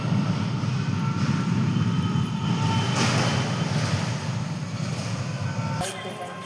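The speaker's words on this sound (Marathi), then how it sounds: "हे बघा, रेल्वे." A heavy, continuous rumble of a passing train, loud and close, holding steady before easing slightly near the end.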